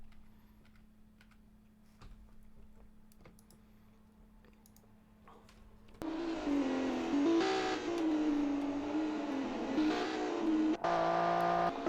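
Race car engine in the racing game ARCS 2007 surging in loud and close from about six seconds as it passes another car, a steady high whine after quieter keyboard-like clicking.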